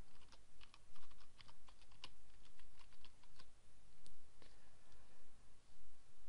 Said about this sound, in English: So type in our subdomain